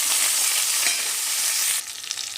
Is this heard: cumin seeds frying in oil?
yes